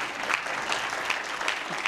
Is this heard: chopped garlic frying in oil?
no